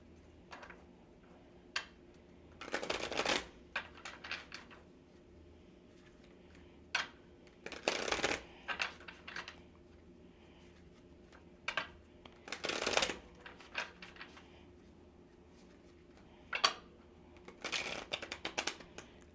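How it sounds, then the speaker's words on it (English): A tarot card deck is shuffled by hand in several short, rustling bursts a few seconds apart, with scattered light card taps and clicks in between, close and quiet in a still room. "sometimes I shuffle, you know how the cool witches shuffle with these tarot decks"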